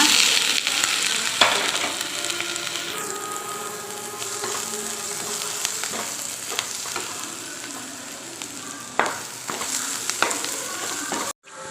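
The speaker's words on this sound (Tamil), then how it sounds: "நம்ம போட்ட பூண்டு நல்லா வதங்கிடுச்சு" Crushed garlic and onion sauté in a pan for drumstick leaf stir-fry, a steady close sizzle with occasional scraping stirs and clinks of a spoon against the pan.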